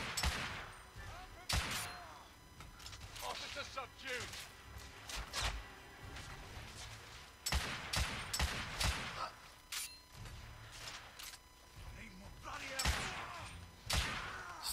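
Gunfire in the video game The Order: 1886 comes as repeated sharp shotgun blasts and bursts spaced across the stretch, each followed by short rumbling tails, with a player talking in between.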